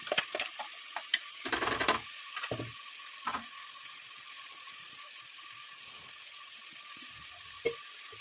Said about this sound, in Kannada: ರುಬ್ಬಿಟ್ಕೊಂಡಿರೋವಂಥ ಮಿಶ್ರಣನ ಇವಾಗ ನಾನು ಸೇರಿಸ್ಕೊತಾ ಇದ್ದೀನಿ ನೀಟಾಗೆ